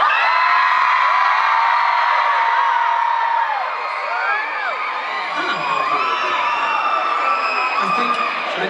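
A dense crowd screams and cheers loudly at an outdoor concert at the Deschutes County Fair in Redmond, Oregon. The high-pitched shrieks and whoops continue without a break.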